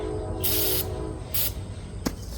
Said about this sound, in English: I'm going to spray a little bit inside here.